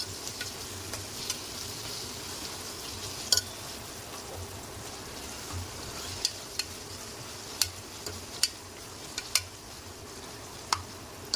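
Ginger garlic paste frying in a pan for a cluster beans masala curry, a steady low sizzle with occasional sharp clicks and scrapes of stirring, moderately close and with no talking.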